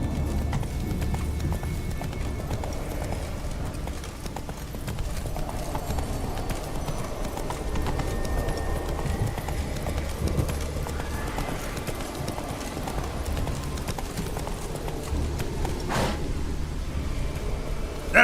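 Roach, a horse in The Witcher 3, gallops with steady, rapid clip-clop hoofbeats that run the whole way through, loud and close, with a brief whoosh near the end and no talking.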